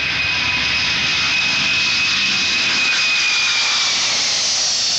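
Jet airliner engines of a wide-body passenger jet carrying nearly 300 people, a steady loud whine with broad roar held continuously throughout, no voices.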